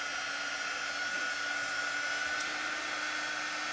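A hair dryer blows in a steady, loud, continuous whir while drying chalk paste on a craft surface, close by and unbroken, with no speech.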